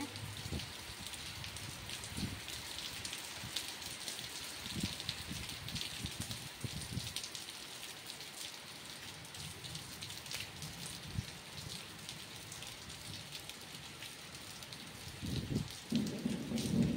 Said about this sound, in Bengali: দেখো বন্ধুরা, আমাদের এদিকে কেমন বৃষ্টি হচ্ছে